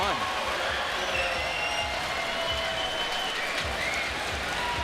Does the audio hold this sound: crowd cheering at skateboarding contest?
yes